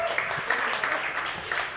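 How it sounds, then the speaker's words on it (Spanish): An audience at a literary talk on Gombrowicz breaks into brief applause, a moderately faint scatter of clapping with a voice or two mixed in. "Aplauso, por favor."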